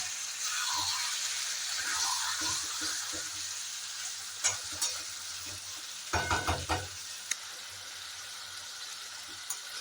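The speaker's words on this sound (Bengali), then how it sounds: "খুব ভালো করে কষবো।" Chicken pieces and potatoes stir-fried in oil in a pan for a Bengali-style chicken curry, with a steady close sizzle and bursts of spoon scraping and stirring, and no voices.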